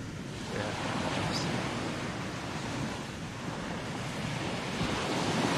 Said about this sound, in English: You hear the waves?